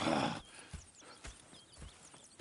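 Horses in Red Dead Redemption 2 whinny at first, followed by slow, spaced hoof clops on the ground, fairly faint and alone.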